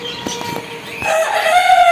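Tiger breed chickens on a poultry farm in Bakshiganj, Jamalpur, with a few short clucks followed by a rising, sustained rooster crow, fairly close and clear with no talk.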